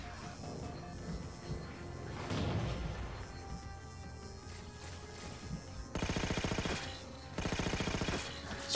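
Automatic weapon fire in the video game Halo 4, with mixed shooting and impacts early on, then two loud, rapid machine-gun bursts close up near the end.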